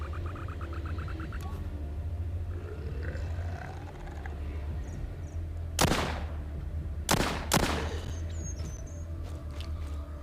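Gunfire in the mobile game The Walking Zombie 2 while shooting zombies: a sharp shot then a close pair of loud blasts over a steady low game-music drone.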